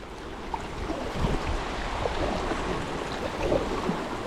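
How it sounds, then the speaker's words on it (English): Heavy rain pours during a thunderstorm while bass fishing from a boat, making a broad, steady hiss with occasional low rumbles and gusty buffeting, and no voices. "That rain is coming down."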